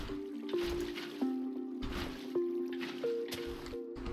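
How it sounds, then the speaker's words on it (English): Water bucket emptied onto water in the Minecraft game, soft sloshing and splashing pops repeating every second or so under a faint tonal background, close and fairly quiet. "Water bucket."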